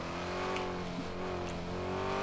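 Car engine starting and revving in a driving video game set in a city, a steady engine drone with harmonic tones rising slightly over the clip.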